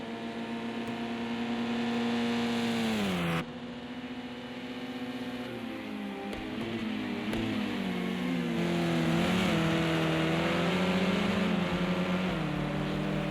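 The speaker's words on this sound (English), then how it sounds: "we did see that Gear's engine was running fairly hot earlier" Race car engines at the Imola circuit during a four-hour endurance race, one car's engine running hot with its radiator closed off: a loud, continuous engine drone with shifting pitch as revs rise and fall, and a brief drop near the start.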